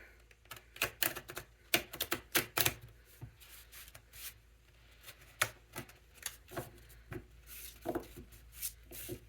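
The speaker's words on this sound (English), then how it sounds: "let me shuffle it" A deck of tarot cards is shuffled by hand, giving close, crisp riffles and clacks in irregular bursts with short pauses between.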